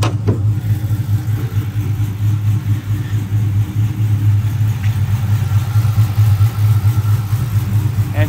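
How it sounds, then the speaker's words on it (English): With the hood up, a 2006-2010 Dodge Charger engine idles in a steady low hum, close and even throughout, with faint talk at moments. "let's just hear that engine real quick."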